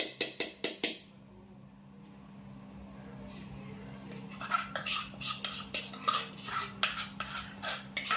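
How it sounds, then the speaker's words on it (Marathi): A spoon or whisk beats rava batter in circles in a bowl after Eno is added, giving a run of quick rhythmic clinks at the start and again later over a low background hum. "इनो टाकल्यावर फिरवत राहायचं, गोल गोल गोल गोल फेटायचं बरोबर."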